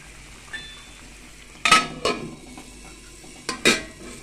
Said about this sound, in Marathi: चांगले मसाले आपले परतून परतून घेऊया